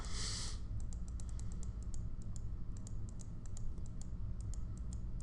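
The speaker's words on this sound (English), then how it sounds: "I wonder if you guys can hear the clicking sound." Computer clicks during an online poker tournament, a steady run of light, crisp ticks over a low background hum, close and fairly faint, with no talk.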